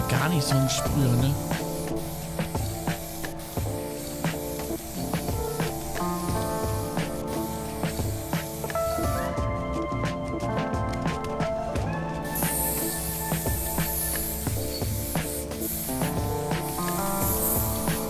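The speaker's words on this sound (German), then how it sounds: "So ein Sprüher, ne?" A sprayer hisses in the horror video game Orten: Was the Case, a steady broadband hiss sitting under dense game music and tones, with a voice talking over it throughout.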